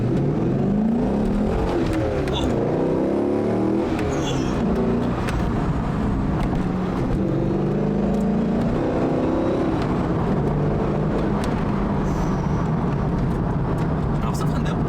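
A 2003 Corvette C5 Z06 V8 revs up past 2000 rpm, its rising engine note loud and steady across the whole stretch beneath continuous talk inside the car.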